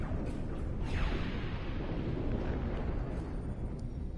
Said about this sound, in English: We are prepared to destroy the large Iconian gate with an orbital bombardment